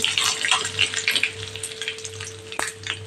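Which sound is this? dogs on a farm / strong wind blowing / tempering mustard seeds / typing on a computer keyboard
tempering mustard seeds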